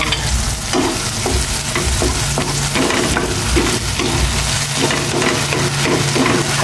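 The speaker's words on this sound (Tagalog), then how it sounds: "Halo-haloin ko lang," A frying mixture with oyster sauce stirred in a pan, loud continuous sizzling with repeated scraping strokes of the spatula, close and steady throughout.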